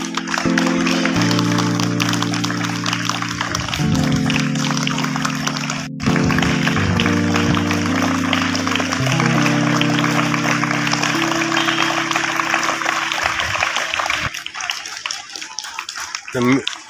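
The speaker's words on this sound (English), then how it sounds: "There should be a non-stop applause." Continuous clapping from students and guests at a school investiture ceremony, steady and loud throughout, mixed with music tones and voices speaking over it.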